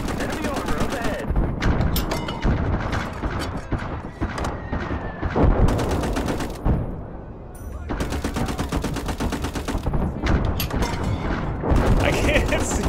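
Dense bursts of rapid automatic gunfire in a war video game set among hedgerows, loud and sustained with brief lulls between volleys, and a voice talking over it.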